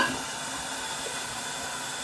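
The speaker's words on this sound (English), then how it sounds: "I'm frying some vegetable dumplings" Vegetable dumplings frying in a covered pan with water added halfway up, giving a steady, soft sizzle and hiss throughout, fairly quiet and even with no talking.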